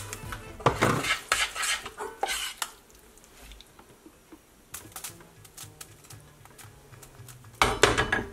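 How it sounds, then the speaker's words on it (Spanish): A utensil scrapes and clinks against a pot while stirring homemade caramel-coated popcorn, producing irregular bursts of metallic clatter and rustling, louder at the start and end with quieter scraping in between. "Y voy revolviendo."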